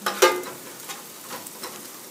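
Onions and curry paste fry in a pan for a prawn curry, crackling and sizzling close by as a spoon stirs them, with a sharp scrape at the start and softer clicks of stirring afterward.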